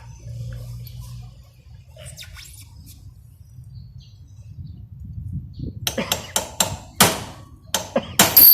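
A steel punch hammered against a motorcycle chain pin to drive it out: after a quiet stretch, roughly eight sharp metallic hammer strikes ring out in quick, uneven succession, loud and close.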